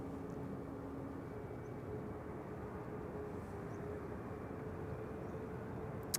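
A Boeing 737 MAX 8, about four years old, at Amsterdam Schiphol Airport gives a steady, even jet roar that holds at a constant level throughout, with no voices.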